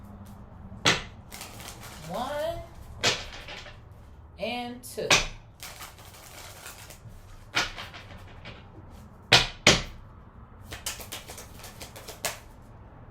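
Cards riffled and bridged in several quick bursts, with crisp flutters and taps up close, while a person speaks briefly between shuffles.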